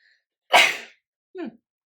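A single sharp sneeze bursts out close by, followed a moment later by a short breathy vocal sound.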